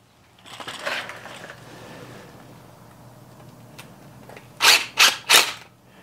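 Impact driver sinking a Tapcon concrete anchor: faint handling noise, then three short, loud hammering bursts in quick succession near the end.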